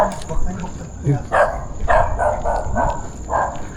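A dog barks repeatedly in a cemetery, a run of sharp, mid-distance barks in an uneven rhythm, mixed with people talking nearby.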